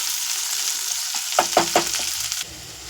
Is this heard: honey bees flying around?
no